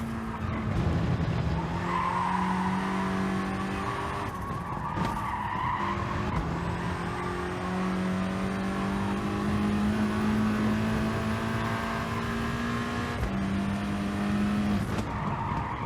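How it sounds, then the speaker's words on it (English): A Volkswagen Scirocco in the Gran Turismo Sport racing game revs hard while climbing an uphill section of Autodrome Lago Maggiore West. The engine drone is loud and steady throughout, with tire squeal layered on top. "We're in the Scirocco, the Volkswagen Scirocco, revving all the way in this uphill section."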